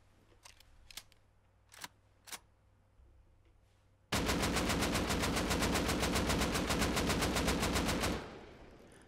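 Explosive ammo fired in Rust starts with a few scattered single shots, then breaks into a loud, rapid, sustained burst of evenly spaced rounds lasting about four seconds before cutting off.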